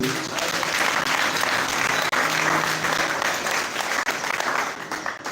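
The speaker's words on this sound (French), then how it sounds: "On peut applaudir pour les deux." A church congregation at a live tabernacle service in Kipushi claps steadily, a dense, loud, continuous applause sustained throughout.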